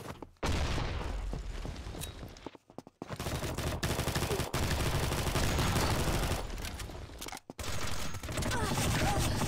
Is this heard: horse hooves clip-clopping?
no